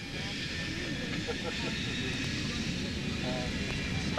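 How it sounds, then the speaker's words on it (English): Aircraft engine running up and starting its takeoff roll for a Dryden departure, a steady broad droning roar with no rise or fall, heard at moderate distance with faint radio-style voices underneath. "Following a short engine run-up, Flight 363 commenced takeoff."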